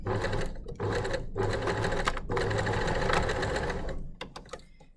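A sewing machine stitches the side seams of a basic dress, running loud and close in long steady whirring bursts separated by short pauses, with no talking.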